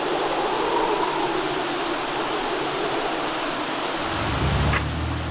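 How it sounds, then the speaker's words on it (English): Rain in The Sims 3 video game, a steady broadband hiss of falling water that stays even throughout, with a low rumble rising near the end. "Peter doesn't mind the rain."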